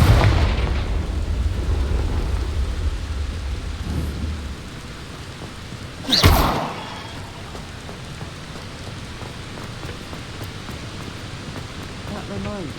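In Hogwarts Legacy, a Confringo spell goes off as a single sharp fiery blast about halfway through, over a steady rain-like game ambience that is dense and rumbling at the start and quieter afterward.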